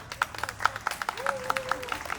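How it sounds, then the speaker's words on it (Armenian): Wedding guests give the couple's parents a round of applause, scattered rhythmic claps rising over a faint background hum. "Եկեք ծնողներին եւս մեկ անգամ շատ բարձր ծափարենք։"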